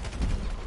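Gunfire in the video game GTA 5 during a World War II D-Day team deathmatch, a dense low-heavy burst of shots lasting under a second, loud and close with no speech over it.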